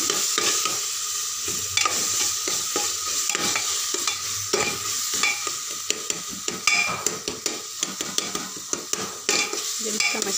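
Turmeric, coriander and other spices fry in oil in a pan for an Indian potato and pea curry, with a steady close sizzle and repeated scraping stirs of a spoon against the metal.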